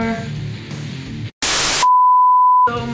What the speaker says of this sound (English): I put a timer for 45 minutes.